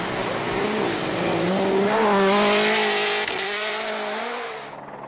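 A Mini World Rally car at Rally Sweden roars past, engine loud and steady with a rising then falling pitch, swelling at the pass before fading and cutting off sharply at the end.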